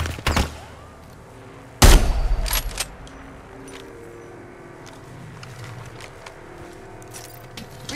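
Gunfire in Apex Legends: a couple of sharp shots open, then a loud, close burst of rapid fire, followed by quieter mechanical clicks and faint distant shots over low game ambience.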